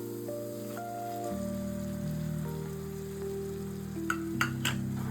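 Freshly ground masala paste hits a hot pan for hotel-style paneer masala, giving a steady, close sizzle and crackle with brief sharper pops near the end, no voices.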